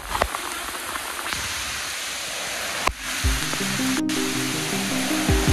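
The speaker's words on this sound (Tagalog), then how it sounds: "lakas ng ulan oh" Heavy rain pours down in a dense, steady roar close by, with a brief thump partway through and a low rumbling hum underneath later on.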